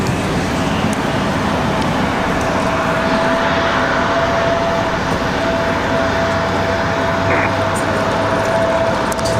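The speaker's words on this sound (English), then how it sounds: "Copa Airlines just south of the airport now, getting ready to turn to the downwind here." Copa Airlines airliner approaching Raleigh-Durham airport and turning toward the downwind leg in windy weather, heard as a steady, loud, continuous broadband roar with a sustained engine tone throughout, no talk.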